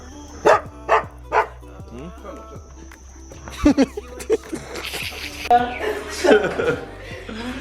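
Several sharp barks from a nearby pack of dogs in Jamaica, a quick run of three and then more scattered barks, mixed with a person talking and some background noise.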